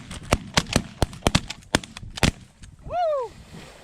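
Shotgun blasts fired at geese during a windy goose hunt in Manitoba, roughly a dozen sharp reports in rapid, uneven bursts at close range, followed by a rising and falling call or whoop.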